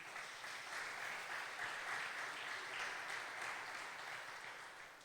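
A church congregation claps together in a steady, even wash of applause, heard from a distance and fairly quiet, swelling slightly and then fading at the end.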